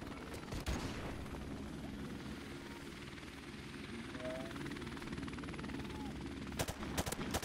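Gunfire in Call of Duty: Modern Warfare Remastered multiplayer, with a steady helicopter-like drone throughout, a sharp early burst and a rapid cluster of shots near the end.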